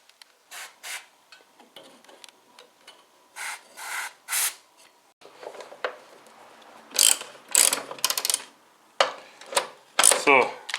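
Ratchet wrench loosening bolts on the shock absorber strut of a 32-year-old VW Golf in a workshop, heard as repeated bursts of rapid clicking with short pauses between strokes, close and clear, with no talking.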